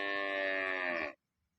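A single cow gives one long, loud, close moo on a dairy farm, then it falls silent.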